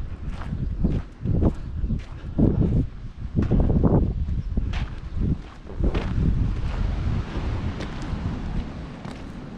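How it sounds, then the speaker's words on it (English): Strong gusty wind at Sceale Bay buffets the microphone with loud, rumbling blasts and rustling, rising and falling throughout. "It's very windy again."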